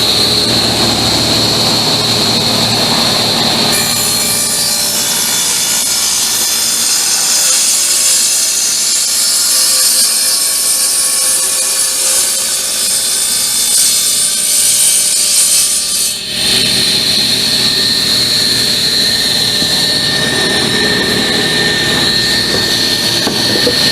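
A power saw cuts through a wooden decorative storage box to split the lid from the body, giving a continuous loud, whining saw screech with grinding wood noise that shifts in pitch as the cut progresses.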